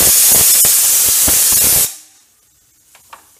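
A pressure cooker steaming jackfruit seeds vents a loud, steady hiss of steam up close that cuts off abruptly partway through, leaving near silence with a couple of faint clicks.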